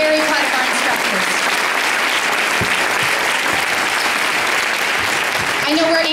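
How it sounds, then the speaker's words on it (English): Sustained applause from a large audience, steady clapping filling the room for several seconds with a voice briefly audible at the end. "give them another round of applause"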